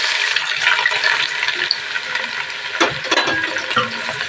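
Four hundred grams of cut onions go into a hot pan for sautéing as a chicken biryani base, giving a steady, close sizzle and frying hiss with a few stirring clatters near the end.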